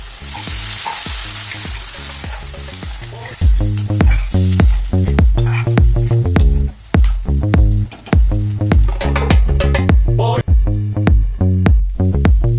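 A chickpea and potato ghugni cooks in a pan after water is added, with loud bubbling and sizzling beneath a strong rhythmic tonal pattern that sounds like music, the frying noise close and continuous.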